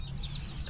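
A short burst of chicken clucking over a steady low background hum, fairly close and continuous.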